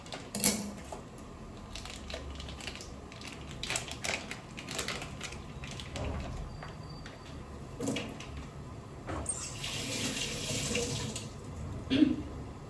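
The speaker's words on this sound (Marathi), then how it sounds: "पनीर पहिलं स्वच्छ धुवून घ्यायचं आहे, कारण हे पनीर पॅक्ड येतं" Running tap water pours steadily into a kitchen sink as packaged paneer is rinsed, a continuous close splashing hiss with occasional knocks and a brief louder gush near the end, with no talking.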